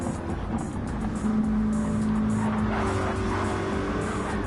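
Race cars roar off at the start of a race in the NASCAR GT racing game. A dense, loud engine drone runs throughout, with a steady whine rising over it, and no voices are heard.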